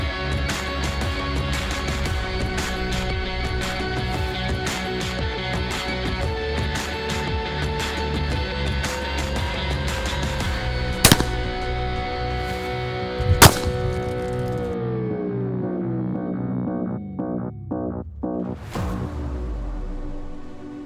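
Two sharp shotgun blasts crack out a couple of seconds apart at a trap-shooting range as clay targets are fired on, standing out above a loud, steady musical backdrop.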